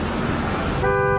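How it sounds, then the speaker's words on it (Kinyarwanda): A car horn gives one short, loud toot at a motorbike blocking the road, heard near and alone over a steady rumble of engine and traffic. "Vuza amahoni moto niva mu nzira."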